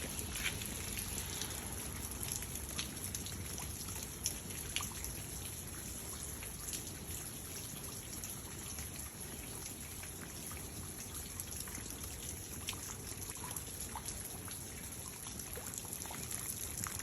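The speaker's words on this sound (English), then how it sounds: "It is finally raining." Steady outdoor rainfall in Silverhill, a dense continuous patter of drops with occasional sharper drips, evenly loud and unbroken throughout with no voices.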